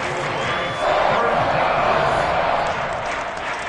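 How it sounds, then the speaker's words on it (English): A football stadium crowd at an AAC college game roars steadily ahead of a big third down, a broad, sustained wash of cheering with no voices standing out. "the crowd getting into it as we come up on a big 3rd down"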